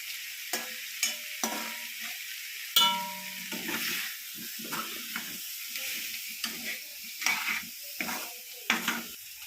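Grated coconut frying in a pan for a Kerala olathukari, stirred with a spoon: a steady sizzle under close scraping and clinks against the metal pan, with no talk.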